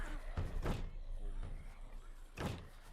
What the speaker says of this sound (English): Oh my god, they break the doors!